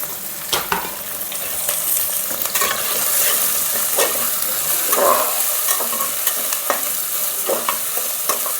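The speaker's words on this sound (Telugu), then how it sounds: "పచ్చిమిరపకాయలు టమాటాలు వేగినాయి." Chopped green chillies and tomato fry in a pan with a steady, close sizzle, broken by scraping stirs and occasional soft clatters of a spoon against the pan.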